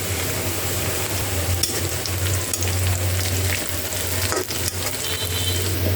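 Onions fry in a pan with a continuous close sizzle and bursts of crackling as they are stirred, with no talk.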